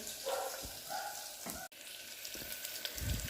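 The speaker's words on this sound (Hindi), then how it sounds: "प्याज भूनने के लिए डाल दिए हैं" Onions fry in a pan for pulao in a home kitchen, a soft continuous sizzle with faint clinks and a brief dropout midway, heard fairly quietly without speech.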